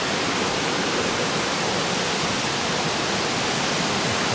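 Storm-swollen river rushing along a forest park trail, a loud, continuous broadband roar of flowing water close by with no voices.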